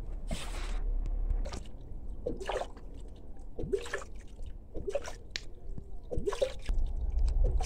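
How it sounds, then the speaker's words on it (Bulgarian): A wooden wine barrel being washed out with plenty of water gives close, repeated sloshing splashes and drips in an uneven rhythm, roughly one burst every second or so. "време е да го измием обилно с вода."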